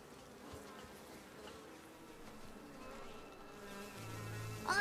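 Bees hum in a steady, close buzz that rises and thickens near the end, with no talking over it.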